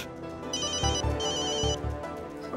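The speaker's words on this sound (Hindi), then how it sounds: "दुग्गल साहब का फोन आ रहा है" A phone ringtone plays a bright, repeating electronic melody in two bursts, fairly close and clear with no talking.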